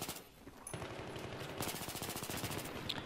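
Rapid, sustained automatic fire from a P90 submachine gun in the multiplayer shooter Battlefield 3, loud and continuous across the whole stretch with no talking over it.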